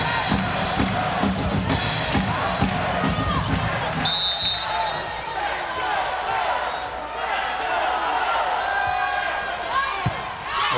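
Crowd noise at a women's college volleyball match between Rainbow Wahine and Army West Point, a loud continuous roar of cheering with scattered shouts and ball thuds, a commentator talking over it.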